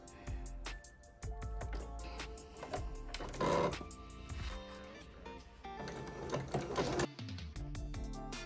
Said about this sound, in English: So we're going to keep stitching all the way to where the end of this back piece finishes, and then we're going to backstitch.